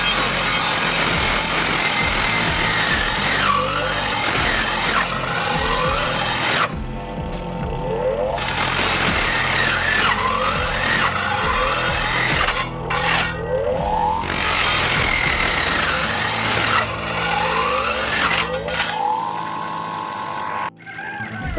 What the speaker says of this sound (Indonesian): Nah, di alat ini lanjut kita potong.